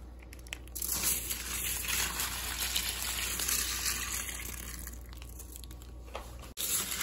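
Milk pouring from a plastic bag onto a large bucket of cereal, a close, continuous splashing gush over crackling, crunching flakes, ending with a short drop-out and a final rustle.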